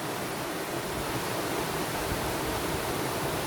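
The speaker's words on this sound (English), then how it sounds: "Listen to the water." A steady, broad rush of flowing water, constant and fairly close, with no voices, in Mauritius.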